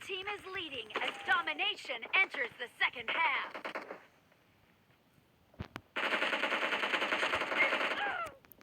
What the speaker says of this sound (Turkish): O bu adam bizi sürekli vuruyor bak.